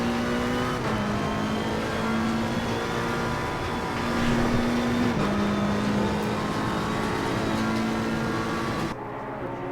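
A race car climbs the mountain at Bathurst in Gran Turismo, its engine droning loud and steady, then rising with each upshift through the gears.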